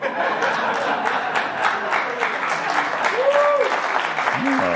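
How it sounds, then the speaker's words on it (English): Studio audience claps in a dense, sustained burst of applause at a talk show, loud and even, with scattered voices and a chuckle mixed underneath. "Applause."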